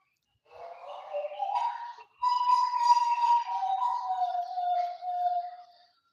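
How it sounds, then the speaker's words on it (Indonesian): A lone Papuan bird sings a clear whistled phrase, starting with rising chirps, then a long sustained whistle that slowly dips, with no other sounds around. "itu suara burung"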